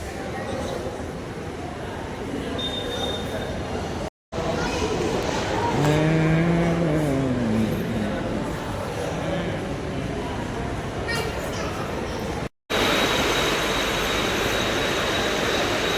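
A train rumbles steadily in a broad continuous roar with a passing rising-and-falling tonal whine, heard across two cuts with a voice talking faintly in places.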